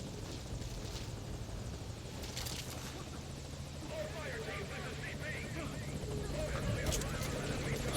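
A helicopter's rotor in the video game Metal Gear Solid V: Ground Zeroes thrums steadily and grows slightly louder as it approaches, with a voice speaking over the droning engine.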